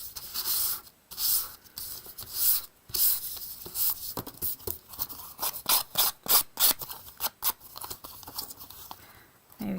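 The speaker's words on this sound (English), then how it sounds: "Maybe come through with my scissors and do" Scissor blades scrape and rough up the edges of a paper birthday card in quick, uneven bursts of dry rasping and snipping, close and fairly quiet.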